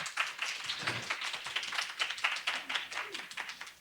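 A lecture audience at Korea's National Archives claps to welcome an AI innovation centre director, a moderately quiet, uneven patter of many hands heard from a little distance.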